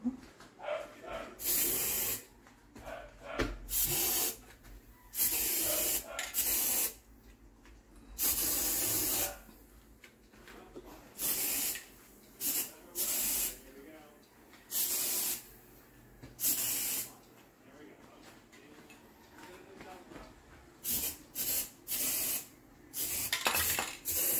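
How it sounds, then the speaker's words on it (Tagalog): A spray bottle, used while doing fake nails, fires repeated short hissing bursts in an irregular rhythm, close and fairly loud against quiet gaps. "Mag-spray muna tayo."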